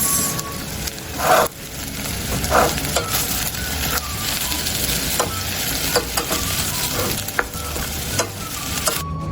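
Vegetable stuffing for puffs being stirred in a pan with a spoon, scraping and sizzling softly with occasional sharper clinks, continuous and close with no talk.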